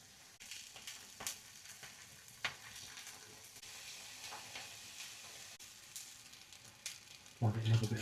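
Hotdogs and streaky bacon fry in a pan with a soft, continuous sizzle, broken by a few sharp pops and a louder burst of clatter near the end.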